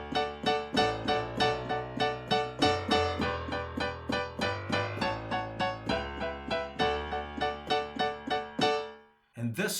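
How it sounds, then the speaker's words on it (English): Slow 1950s country-style piano, played alone with a steady rhythm of repeated chords over a walking bass line, close and moderately loud, ending with a brief pause and a final struck note. "it's going to teach you how to play the 50 style that sounds like this."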